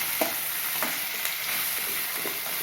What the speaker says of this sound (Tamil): முருங்கைக்காய் வதங்கிடுது.